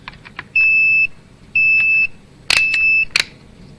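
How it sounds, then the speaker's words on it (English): Multimeter in voltage mode with probes set for current, beeping three times in steady, evenly spaced half-second tones, close and clear, with faint clicks and handling noise between them. "If you have it in voltage mode and you have the probes connected for currents, then it starts beeping at you"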